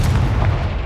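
A Confringo blasting curse explodes in Hogwarts Legacy, a single loud, close boom with a deep rumbling body that fills the brief moment.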